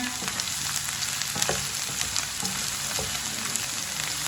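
Okra frying in a pan, a steady close sizzle with light crackles and occasional stirring clicks, no talking.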